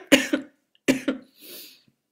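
A person coughs during a live stream: two close double coughs, loud and near, followed by a soft breathy exhale.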